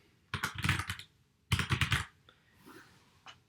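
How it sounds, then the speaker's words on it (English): Typing on a computer keyboard: two quick bursts of rapid key clicks close to the microphone, each lasting about half a second, followed by a softer single tap. "while I'm typing and interacting with the website"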